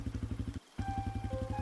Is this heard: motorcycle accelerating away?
yes